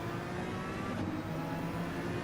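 A race car in Gran Turismo 7 drives past other cars in a slipstream, its engine a steady, dense mid-pitched drone that stays loud and even throughout, with no talk.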